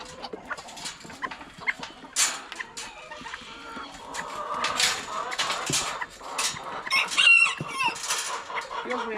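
Hens on a small Tennessee homestead cluck and squawk busily around a pen, several birds overlapping in irregular bursts, with a possible dog or rooster sound in the mix.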